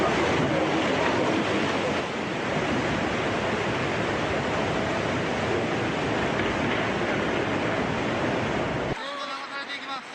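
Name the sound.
giant tsunami wave crashing into town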